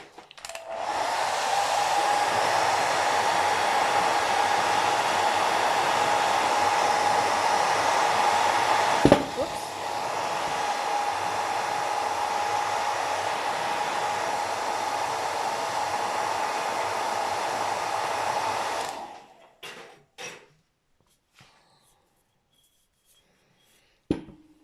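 A hair dryer blows steadily on a bottle craft for about nineteen seconds, loud and close with a slight dip in pitch midway, then cuts off abruptly, leaving a few faint knocks and handling sounds.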